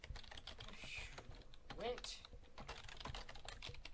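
Notes typed on a computer keyboard in a quiet room, a quick, continuous patter of light close key clicks with short pauses, a person murmuring briefly partway through.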